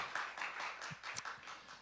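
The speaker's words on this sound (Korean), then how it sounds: "함께 영광의 박수 올려드리겠습니다" A church congregation at a revival service claps together in quick, evenly spaced bursts, soft and somewhat distant, with no talking over it.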